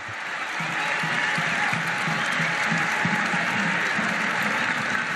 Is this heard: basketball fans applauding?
yes